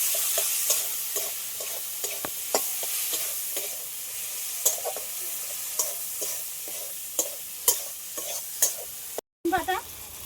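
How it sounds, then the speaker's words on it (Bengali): Chopped tomatoes with turmeric fry in a pan with a soft continuous sizzle, punctuated by a regular series of sharp spatula scrapes and taps, ending in a brief gap and a clatter. "এগুলো সব একসাথে লাল লাল করে ভেজে নেবো।"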